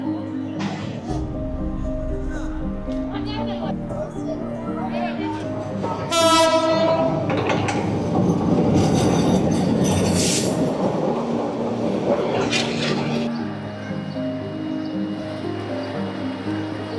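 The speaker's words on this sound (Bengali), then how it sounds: "আবার ট্রেন আইতাছে আবার" A train passes close by with a steady roar of wheels on the rails. Loud horn blasts sound partway through, the noise swells, then it eases as the train moves on.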